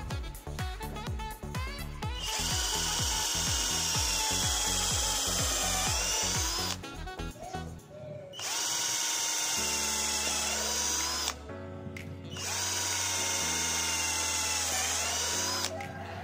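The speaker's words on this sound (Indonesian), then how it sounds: "Ini ukurannya adalah 4 mm, media pengeboran kayu mahoni." An Edon LV3-1210 cordless drill in drilling mode on speed 2 bores mahogany wood with a 4 mm bit, a loud close whine cut by short stops and restarts.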